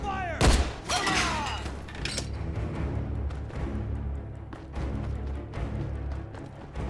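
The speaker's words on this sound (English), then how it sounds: "Every game has to have cover-based shooting now." Gunfire from a cover-based shootout in the video game Beyond: Two Souls, a sharp burst followed by continuous rumbling shots and impacts with a voice talking over the game.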